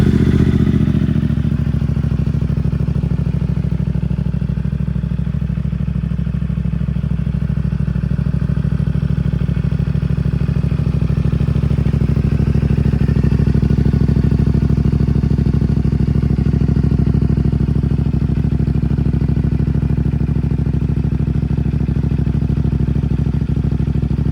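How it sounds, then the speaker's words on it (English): CFMOTO 450SS motorcycle with a Yoshimura exhaust during a cold start, a loud close engine that settles into a steady idle and holds a continuous drone, alone without talk. "So I'm gonna give you guys a cold start. You can hear what it sounds like"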